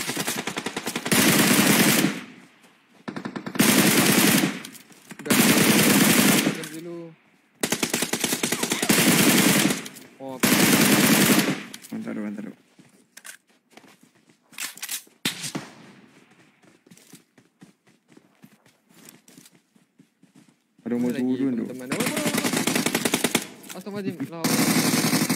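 Rapid automatic gunfire in a shooter video game, loud and close, comes in repeated long bursts separated by brief pauses, then gives way to quieter scattered shots and game noise before another sustained burst near the end.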